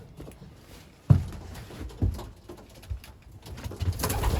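Racing pigeons, young middle-distance hens, coo softly as they are let out, with a few wing flutters and scattered bumps close by.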